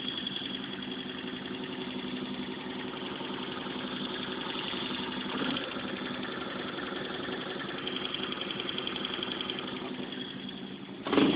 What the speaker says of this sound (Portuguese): Desliga aí, Eric, a moto